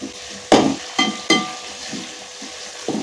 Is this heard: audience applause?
no